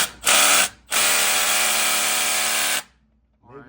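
An impact wrench fitted with a 14 mm socket rattles loud and close during a brake job: a short burst, a brief pause, then a longer run of about two seconds. A faint voice follows afterward.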